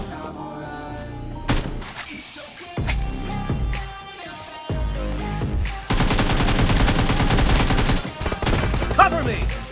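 Gunfire in the mobile battle game BGMI during a team deathmatch, with rapid automatic bursts and sustained firing over game music and effects, loud and continuous.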